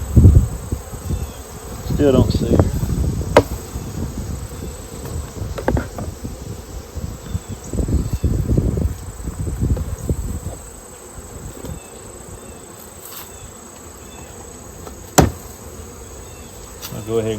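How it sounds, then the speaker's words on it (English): Honey bees in an opened hive during a mite check hum as a steady close buzz, with bursts of handling noise and a brief sharp knock, and a voice speaks briefly. "A half cup of bees."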